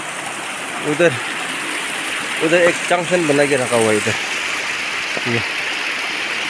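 Stream water rushes steadily at a pipeline junction, a constant outdoor flow heard throughout while someone talks over it.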